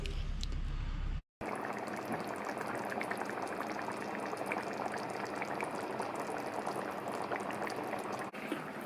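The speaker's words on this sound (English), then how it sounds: "sauce is still reducing there now. It's getting quite thick, but I want it a little bit thicker yet." A thickening sauce for Goan beef tongue roast simmers and reduces in a pot with steady, dense bubbling and hissing throughout. The sound is alone, with only a brief break near the start.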